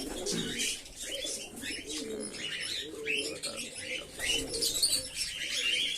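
White pigeons at a morning feeding, soft repeated cooing with chirps and the odd wing flutter, close by and fairly quiet.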